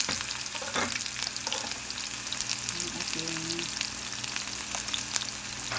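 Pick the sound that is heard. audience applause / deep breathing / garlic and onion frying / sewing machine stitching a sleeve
garlic and onion frying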